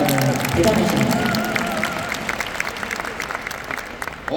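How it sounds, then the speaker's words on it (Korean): Applause from a lecture audience at a Mannatech Korea event, a broad, dense patter of clapping that swells early and fades, with a speaker's voice and some cheering mixed in. "박수 좀 쳐주세요."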